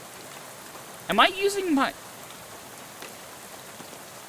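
Soft, steady rainfall patters throughout a rainy scene in the video game Shadows over Loathing, a constant gentle hiss under a brief spoken line in the middle.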